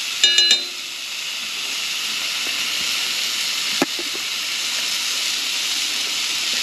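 Venison tenderloin sizzles steadily in a hot pan inside a tent in freezing cold weather, a continuous close hiss after a brief clatter at the start, with a single small knock midway.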